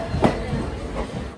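The rumble of a passenger train coach running at about 100 km/h, a low steady rolling noise with faint clatter from inside the carriage.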